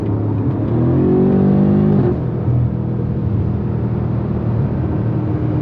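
A BMW F90 M5 Competition engine revs and accelerates with a rising whine, then settles into a steady rumble as the car passes nearby at night, loud and close.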